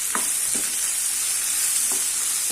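Green peas and vegetables fry lightly in a pan for coconut milk rava upma, giving a continuous bright sizzle with a few soft spoon scrapes spaced apart, close by and with no talking.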